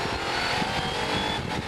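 A Volvo Silhouette race car accelerates hard alongside a Ferrari at Spa-Francorchamps, engines roaring loudly and continuously in a dense, steady wall of sound with no voices.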